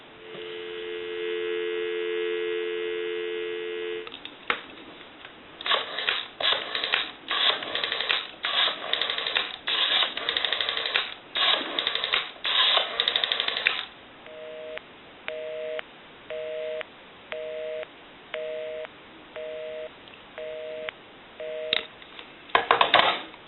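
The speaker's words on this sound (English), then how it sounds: "I'll give you some dial tone." A Western Electric 202 rotary desk telephone, newly repaired, gives a steady two-tone dial tone, then a run of rotary dial clicks, then a busy signal beeping in short even pulses, with a low mains hum underneath and no one talking.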